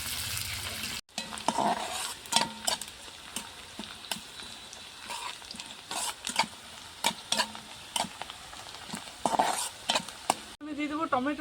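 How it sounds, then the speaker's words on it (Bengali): Chopped onion sizzling in hot oil with sugar in a pan, a steady frying hiss broken by repeated scrapes and clinks of a spoon stirring, close by and without talk. "পেঁয়াজ কুচি দিয়ে দিচ্ছি"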